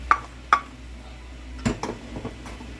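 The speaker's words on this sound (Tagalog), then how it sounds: "Ihahalo na natin sa ating munggo na pinakuluan kanina." A utensil scrapes and clinks against a cooking pot a few times as sautéed tomato, onion and garlic are stirred into boiled mung beans, sharp close knocks separated by quiet gaps.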